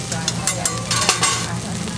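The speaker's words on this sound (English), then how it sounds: "You see him cooking the rice?" Rice cooking in a pan, frying and being stirred, with rhythmic scraping and shaking strokes over a continuous sizzle, close and fairly loud, and no voices.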